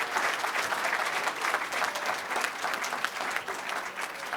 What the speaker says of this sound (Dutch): Een applaus voor de winnaar.